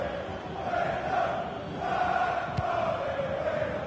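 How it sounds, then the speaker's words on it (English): Stadium crowd in a football video game career mode with FC St. Pauli, a broad sustained roar of cheering and chanting that swells slightly midway, steady and fairly loud throughout with no talking. "The crowd certainly think so. Just listen to them."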